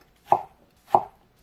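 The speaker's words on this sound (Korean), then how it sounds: "가지의 끝부분은 자르고 반으로 자른 다음 1cm 두께로 편썰기 하세요." Two crisp knife strokes cut halved eggplant into thick slices on a board, evenly spaced and close, with silence between them.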